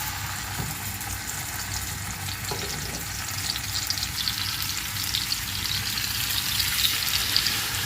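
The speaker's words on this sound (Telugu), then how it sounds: "కొద్దిగా ఫ్రై చేసుకుందాం" Fish curry masala sizzling in olive oil in a pan, a steady, close, continuous frying hiss with occasional stirring scrapes and no voices.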